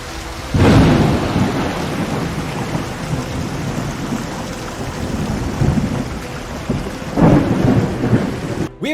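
Weather in the Pantheon: Rise of the Fallen video game brings steady heavy rain with rolling thunder, loud bursts of thunder near the start and again near the end over the continuous downpour, with no talk.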